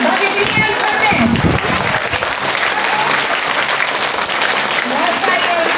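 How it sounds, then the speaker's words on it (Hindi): A room full of schoolchildren at a Mother's Day assembly claps hard and steadily, loud sustained applause with some kids' voices mixed in. "और मम्मी से प्यार कितना करते हैं? ताली बजा के बताओ।"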